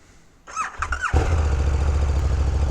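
A 2019 KTM Super Duke GT motorcycle starting in first gear: a whining starter squeal, then the engine catches and settles into a loud, steady, close rumble.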